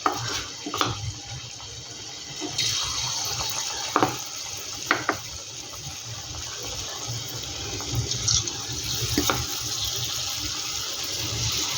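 Chilli jackfruit pieces fry in hot oil, giving a steady close sizzle with occasional sharp pops and clatters as pieces go in.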